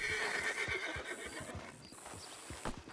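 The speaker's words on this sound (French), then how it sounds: "Il est beau mon cheval, Ray." A horse whinnies loudly and close, then its hooves clip-clop in a quick irregular rhythm beneath fainter high calls.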